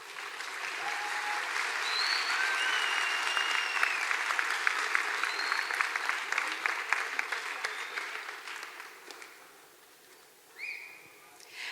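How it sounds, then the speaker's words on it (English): An audience at a homecoming coronation claps steadily for several seconds, dense and sustained, then the applause fades out, with a few whistles and whoops rising over it. "Let's give them a round of applause."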